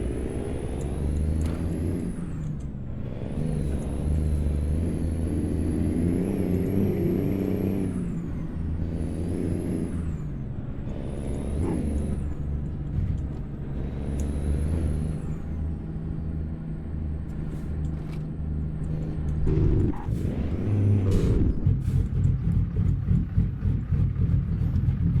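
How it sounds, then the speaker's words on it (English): Kenworth W900 truck with a 1088-horsepower engine driving in American Truck Simulator, a low engine drone with repeated high air brake hisses and squeals, followed by a louder rumble near the end, with no talk. "tonight I'm going to be using my Kenworth W900 with the 1088 horsepower in it"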